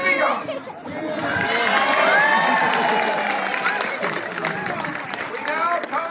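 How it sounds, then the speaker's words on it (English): Crowd at an outdoor military drill display in a historic village, clapping and cheering loudly with children shouting and chatter mixed in, swelling early and then tapering into scattered claps and voices. "Thank you for that spontaneous and rapturous round of applause you are now giving us"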